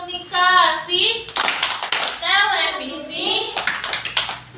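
Children in an Indonesian classroom chanting together in unison, punctuated by bursts of rhythmic group clapping in a teacher-led clapping game, close and lively.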